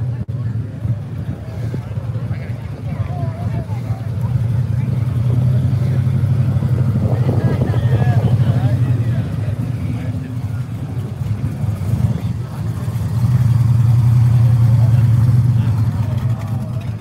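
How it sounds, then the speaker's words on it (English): A little white Chevrolet Nova runs nearby at a car show, its engine a steady low rumble that swells louder in two long stretches, with voices faintly underneath. "There you go, you get to hear your little white Nova."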